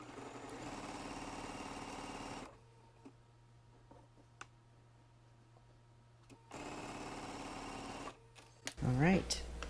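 Sewing machine stitching the bottom half of a quilt block, a steady whirring run at the start and another later, with a quiet pause between and a voice talking briefly at the end.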